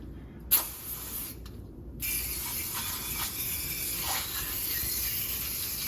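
An aerosol can of coil cleaner sprays into a switched-off chilled water HVAC unit in a short burst, pauses briefly, then releases a long steady hiss that continues to the end.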